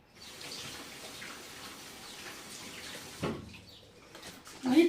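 Tap water runs steadily into a kitchen sink while a spatula used for tiramisu batter is washed. The flow stops briefly near the end, then a short clatter follows.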